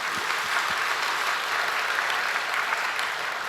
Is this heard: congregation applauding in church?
yes